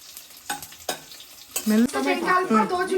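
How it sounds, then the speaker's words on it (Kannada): Masala frying in a pan, with a few sharp spoon scrapes followed by a close, dense sizzle that swells and crackles steadily to the end. "ಸ್ವಲ್ಪ ಫ್ರೈ ಆಗಲಿ"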